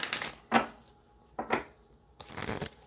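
Tarot cards shuffled by hand in three separate bursts, each a brisk riffling rustle, close and clear with no talking.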